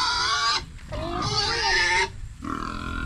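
A pig squeals and grunts loudly up close on a rural farm plot, in three long strained bursts separated by short pauses.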